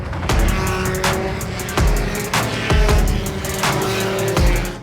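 Single-seat race cars with 1.3-litre Maruti Suzuki Swift engines race at an Indian racing festival, with a loud, steady engine roar broken by repeated sharp gearshift or rev bursts at roughly half-second intervals, close by.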